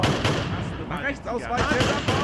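Gunshots from the battle game Ultimate Epic Battle Simulator, with American troops firing on German soldiers, come as a few sharp cracks partly buried under a person talking excitedly.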